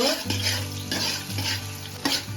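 Chopped onion fries in oil with whole cardamom, cinnamon and cloves for a home-style Bengali biryani, a close, loud sizzle with rhythmic stirring scrapes and a low pan hum, no voices.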